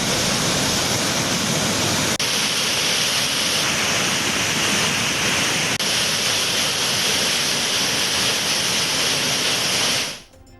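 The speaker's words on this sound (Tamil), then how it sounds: "அருவியில் ஆர்ப்பரித்து கொட்டும் தண்ணீர்." Floodwater roars down the Kovai Kutralam waterfall in a dense, loud, unbroken rush that holds steady until it cuts off abruptly at the very end.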